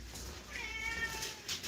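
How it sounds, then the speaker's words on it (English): A newer pet kitty cat meows plainly and up close in a home, a single drawn-out cry with a faint second call at the end, alone without any talk. "this is our sweetheart. One of our newer kitty cats, Ringo."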